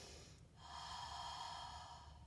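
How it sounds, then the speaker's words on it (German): Slow, calm breathing during a back-stretching exercise, one soft, drawn-out breath heard close and faint with a brief sharper intake at the start. "Atme in Ruhe."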